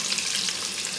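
Onions frying in a pan, a dense and loud continuous sizzle with no breaks, heard close up and alone.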